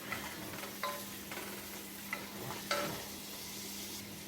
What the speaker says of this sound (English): Next up, we're gonna throw in our onions. Gonna get those all nice and cooked down a little bit.